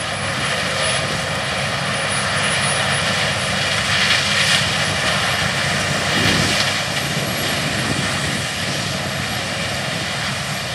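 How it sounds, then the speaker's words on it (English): A CLAAS Lexion 7500 TT combine with a CLAAS 1230C twelve-row corn head harvests corn in Kentucky, a steady, loud, broadband machine roar with a constant high whine that stays unchanged throughout. "Lexion 7500 TT harvesting corn in this video is equipped with a CLAAS 1230C corn head"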